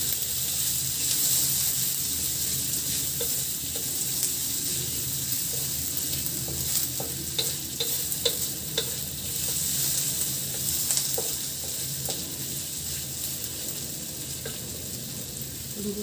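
Chillies, including a very large one, fry in a pan for sambal goreng with meat and green beans. A steady loud sizzle runs throughout, with clinking stirring strokes near the middle.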